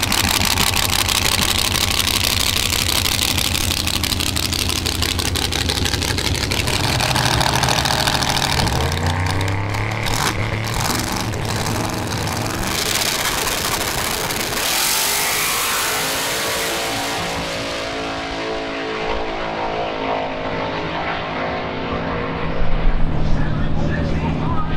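A race car engine, an Opel Ascona drag car at a drag racing event, revs loudly and close, rising and falling through sustained high-rpm sweeps before dropping back toward idle, with a voice talking over it.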